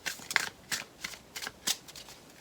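Playing cards shuffled close by in a few quick riffling bursts, crisp papery flutters separated by short pauses, with no talking.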